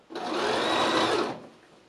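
A home sewing machine runs a running stitch along an elastic waistband in one short, steady, close whirring burst of about a second and a half, then tapers off.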